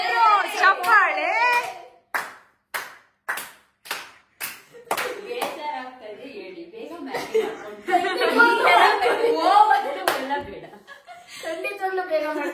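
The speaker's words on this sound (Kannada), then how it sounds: "ಕೊಟ್ಟರು ಚಪ್ಪಾಳೆ." A small crowd claps in quick bursts, first as a few separate claps and then as steadier applause. Laughter and children's voices run through it, with talk over the clapping.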